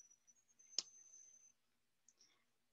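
A single sharp computer mouse click while working in an Excel spreadsheet, close and crisp in a quiet room, followed by faint tiny ticks.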